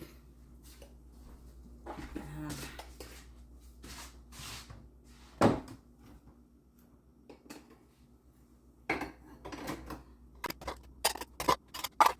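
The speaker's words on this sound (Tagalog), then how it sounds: "lagay na natin yung mga plato natin sa drawer, sa cabinet" Plates are put away into a home kitchen drawer and cabinet, with scattered clacks, taps and knocks coming in uneven bursts between quiet pauses and growing busier toward the end.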